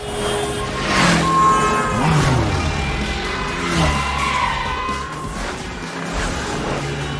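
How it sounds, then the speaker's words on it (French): A car chase through the streets of Paris in The Bourne Identity (2002), full of loud, continuous engine roar with squealing, sliding tyres and rising whines as cars swerve and speed past, no talk. "on retrouve également toute une séquence de course-poursuite en voiture à travers Paris"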